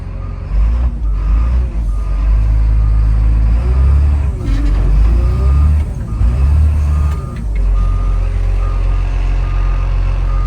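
A loader backs up close to a stuck machine while being hooked to a tow strap in snowy conditions, its heavy diesel engine rumbling steadily near and loud with a faint repeating reversing beep riding on top.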